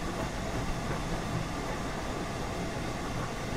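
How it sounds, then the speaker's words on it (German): A passing oncoming train in the simulator Train Sim World 4 gives a steady, broad rumble of wheels and carriages throughout, loud and continuous, with no voices over it. "Ah, da ist der Gegenzug."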